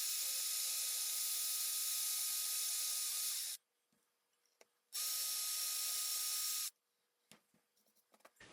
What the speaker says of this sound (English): It's really just a process of drilling in until you get to your tape mark